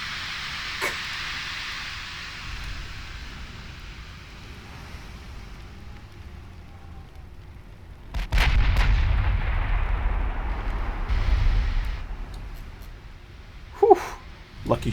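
Naval artillery in Ultimate Admiral Dreadnoughts, with a sharp early report, then a heavy rumbling salvo building around the middle and more sharp cracks near the end, while players talk between shots.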